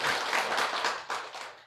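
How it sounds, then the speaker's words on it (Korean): Short burst of audience clapping at a Buddhist lecture, a crowd applauding together for under two seconds before it tapers off. "박수."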